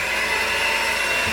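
Electric mixer beating gluten-free cheesecake cookie batter with vanilla, milk and juice, a steady loud motor whir with a high whine running continuously without pause.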